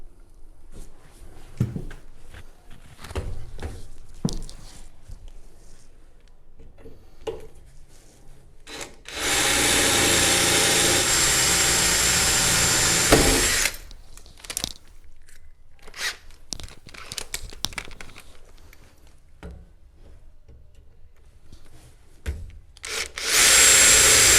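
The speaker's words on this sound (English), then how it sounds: "I'll get drilling, and then we'll get some riv nuts in there" A power drill whirs loudly in one sustained burst of several seconds, drilling a bed frame for rivet nuts in a bus conversion, with scattered clicks, knocks and handling noises before and after, then starts again briefly.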